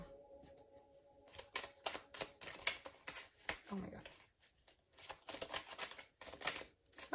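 Rapid riffling and snapping of cards being shuffled in several bursts, close up, with brief pauses between rounds.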